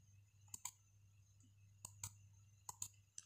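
A computer mouse clicks sharply and close by in sets of one or two quick presses spread over a few seconds, above a steady low hum, with no speech.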